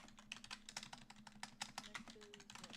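Fast, irregular clatter of keys on a computer keyboard, a steady run of close, crisp taps with a faint low hum underneath.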